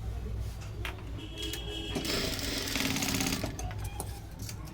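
A sewing machine stitches cut cross strips for a 36-size blouse, running in a steady close whirr that swells louder toward the middle and keeps going throughout.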